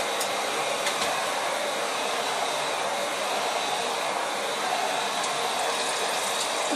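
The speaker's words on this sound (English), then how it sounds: "Go ahead, flush toilet." A household toilet flushes in a bathroom, giving a steady, loud rushing of water that holds evenly throughout without any talking.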